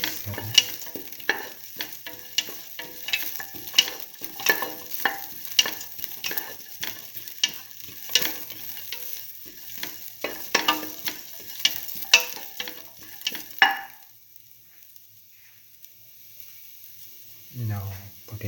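Green chili and salt are stirred in a frying pan, giving repeated scraping clicks and light sizzling in an irregular rhythm. Near the end the stirring stops into near quiet before a brief final burst.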